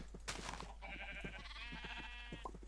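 A Minecraft sheep gives a long wavering bleat, near and clear, with a few shorter sounds before and after over a steady background hum.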